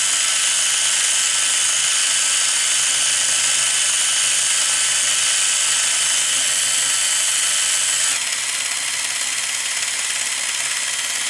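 A Sony EV-C200 Hi8 VCR rewinding tape at high speed, a loud steady whirring whine held throughout that drops slightly in level near the end.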